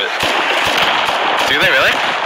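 Rapid bursts of explosions and gunfire crackle during a base raid in the survival game Rust, dense sharp pops close together over a constant din, with voices talking over them.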